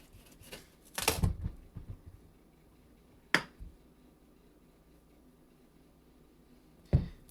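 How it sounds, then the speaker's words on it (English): A knife cuts a sweet watermelon into smaller pieces, giving a few sharp, crisp cracks: a cluster near the start, a lone snap in the middle and another near the end, with quiet between them. "I'm gonna go ahead and cut it into smaller pieces"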